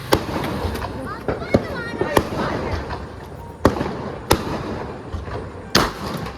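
Firecrackers set off near a home go off in a series of sharp, loud bangs spaced irregularly, with crackling in between and voices faintly audible underneath.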